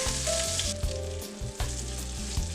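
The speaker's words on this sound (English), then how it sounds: "Now add the tofu cubes and cook for about a minute." Tofu cubes sizzle loudly in a pan with garlic and green chili, a steady close frying hiss that holds throughout.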